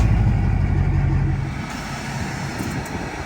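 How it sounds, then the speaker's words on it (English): A Ford F-250 pickup with a Kelderman air lift rolls off a trailer. A low engine rumble is loud and close at first, then drops away, leaving a quieter mechanical hum. "We're gonna go ahead and unload the truck now."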